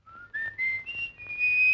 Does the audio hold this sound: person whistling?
yes